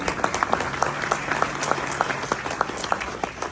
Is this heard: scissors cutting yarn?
no